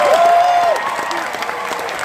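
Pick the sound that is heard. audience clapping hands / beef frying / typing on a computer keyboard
audience clapping hands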